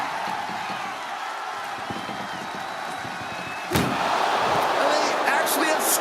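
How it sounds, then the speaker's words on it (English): An ambulance door in WWE 2K25 slams shut with a single sharp bang partway through, set against a continuous crowd roar that grows louder after the impact. "Trying to at least slam one door shut."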